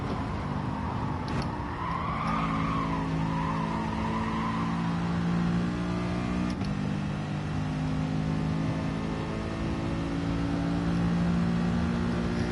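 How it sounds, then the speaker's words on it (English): Racing car engine being revved out in a Gran Turismo FIA practice session, a steady, loud droning engine note with rising and falling pitch sweeps, continuous and without talking. "we'll just try a different technique of revving it out this time"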